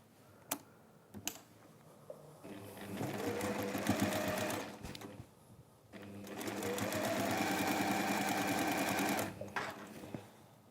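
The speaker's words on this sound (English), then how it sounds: "this is just straight line sewing" A sewing machine stitches straight lines along quilt sashing in two long, steady whirring runs. Each run lasts several seconds and sounds close and clear. Brief clicks and a pause fall between the runs.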